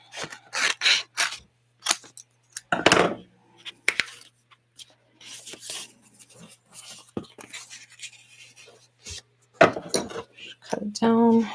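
Scissors snipping craft foam at close range, making irregular short cuts and rustles that come and go, with quiet gaps and some handling noise between them.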